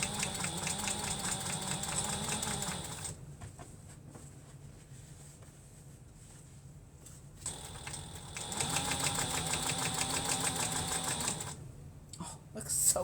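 A sewing machine top stitches a vinyl shoulder bag in two rapid, steady bursts of mechanical chatter separated by a quieter pause, close to the listener.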